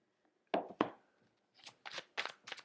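A tarot deck is shuffled up close and quietly, first with two sharp card slaps and then a quick run of papery riffling bursts.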